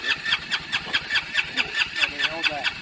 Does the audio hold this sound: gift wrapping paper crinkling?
no